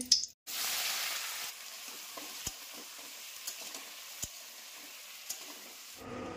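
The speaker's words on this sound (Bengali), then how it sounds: "এদিকে তেল গরম হয়ে গেছে।" Hot oil hissing in a pan before potato curry with black cumin, a steady broadband sizzle through most of the stretch with a few sharp ticks and pops, close by and moderately loud.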